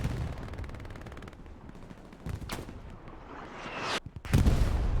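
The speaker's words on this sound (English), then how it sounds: "Artillery coming on" Artillery and gunfire in a video game match crack and boom in bursts, with rapid firing early, scattered reports, and a loud heavy blast near the end.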